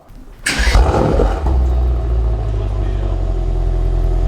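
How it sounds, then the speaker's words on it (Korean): A 2019 Mercedes-AMG GT 63 S 4-door starts up with a sharp loud bark, then settles into a deep, steady rumbling idle that carries on to the end. "브레이크를 밟고 시동을 키면 시동을 걸 때 약간 뻥 하는 소리가 난다"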